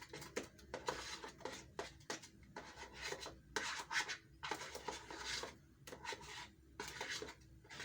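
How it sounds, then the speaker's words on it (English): Scone batter being mixed in a bowl, with quiet repeated scraping and rubbing strokes of a utensil against the bowl in an uneven rhythm. "let me make sure there are no lumps inside here. So let me mix a little bit more."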